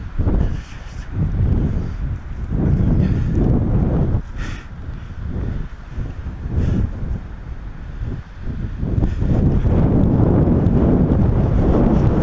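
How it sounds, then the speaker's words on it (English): Wind gusting over a paraglider flying above a cliff, a steady loud buffeting roar across the whole stretch that swells and eases in waves, with no voices. "But that's just a gust."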